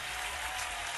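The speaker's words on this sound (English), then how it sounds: "Round of applause." A brief, faint round of applause, a short steady wash of clapping with no voices over it.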